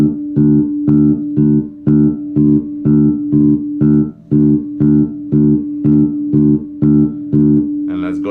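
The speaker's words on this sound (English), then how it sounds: "that's the sound of the second string." Second string of a bass guitar plucked repeatedly at an even, steady pace, about sixteen deep round notes ringing close and clear, each cut short before the next, with no talking.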